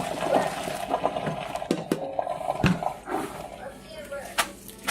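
Boiled spaghetti is drained in a kitchen sink, with bursts of pouring and splashing water and a few clanks of the pot, while a voice talks over it.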